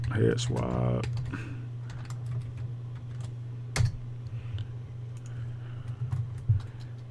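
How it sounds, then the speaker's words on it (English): Computer keyboard typing, scattered light key clicks over a steady electrical hum, with a brief voice at the start. "Maybe I just type head swap."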